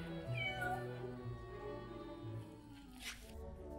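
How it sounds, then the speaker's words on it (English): A cat meows clearly over a soft, sustained musical backdrop in a Christmas Carol scene, with a short rising cry near the start and a brief noisy burst later. "Looks like you have a cat."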